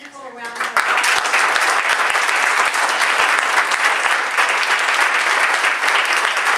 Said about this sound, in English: I think we should give those young people a round of applause.